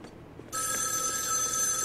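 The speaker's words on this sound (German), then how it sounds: "Das Telefon klingelt." In the video game Joe's Diner, a telephone bell starts ringing abruptly after a short quiet moment and keeps up a loud, continuous electronic trill.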